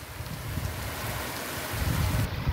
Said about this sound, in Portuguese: Olha agora, chuva.